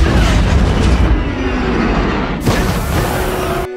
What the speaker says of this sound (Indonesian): Saat di udara mereka ditembak oleh pesawat militer dan salah satu roket yang meledak sangat dekat dengan jet mereka.